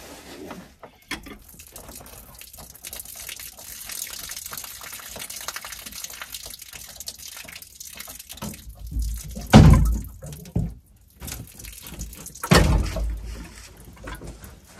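Water gushing from the drain outlet of a camper during a winter check, a low rushing flow with louder splashing bursts near the end, close by with no talk.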